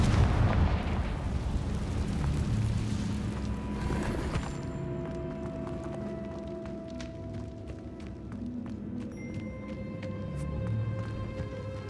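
A Confringo spell explosion in Hogwarts Legacy sets off a rumbling cave-in in the game, with a heavy loud blast that dies down into scattered falling debris and lingering low rumble.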